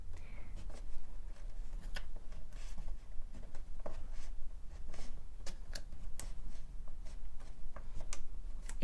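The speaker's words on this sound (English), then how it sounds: "let's draw some diagonal lines coming off of them" A pen or pencil draws diagonal lines on paper in quick, light, scratchy ticks and short strokes, close and fairly quiet, with no voice heard.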